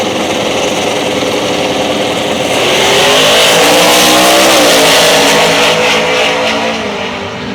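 A Chevrolet Camaro races a tuned Ford Mustang at Sick Week in Florida, loud engines roaring and rising together in a continuous, close, harsh drone that swells midway and eases off at the end.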